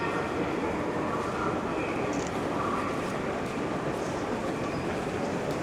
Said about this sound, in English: Looks like I just missed the train because a bunch of people are coming up right now.